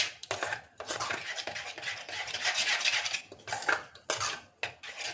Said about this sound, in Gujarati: પહેલાં સરસ રીતે આપણે મિક્સ કરી દેવું.